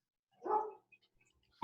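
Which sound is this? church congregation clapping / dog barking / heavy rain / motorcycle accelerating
dog barking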